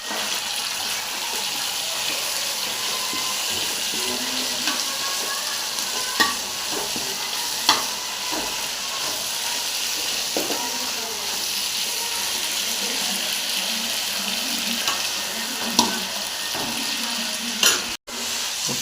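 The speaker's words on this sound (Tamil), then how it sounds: "பிரண்டை வதங்கிட்டு இருக்குது." Pirandai (veldt grape) stems sautéing in a pan for a Tamil thuvaiyal, a steady broadband sizzle with scattered stirring clicks and scrapes of a spoon against the pan throughout, close and fairly loud, with no talking.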